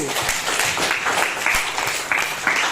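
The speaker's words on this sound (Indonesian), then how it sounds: "Beri tepuk tangan untuk Ayu." Steady applause from a class, dense clapping that continues throughout without pause.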